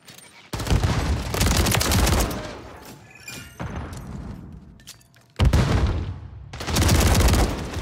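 Shotgun fire in a search-and-destroy video game match: heavy booming blasts in dense rapid bursts, loud and close, with a brief quieter lull between volleys.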